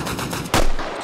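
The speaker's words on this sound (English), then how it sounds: "Suppressing fire!" Suppressing machine gun fire in Arma Reforger cracks out as a single loud, sharp burst halfway through the brief moment, following quieter background rumble.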